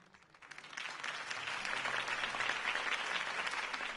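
Applause in the video game Batman: The Telltale Series swells from a few scattered claps into steady clapping from a crowd, sustained and moderately distant.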